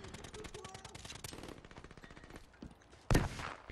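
Rapid automatic gunfire in Call of Duty: Black Ops 3, fairly faint bursts of rattling shots followed by a sharper loud blast near the end, with someone talking at times.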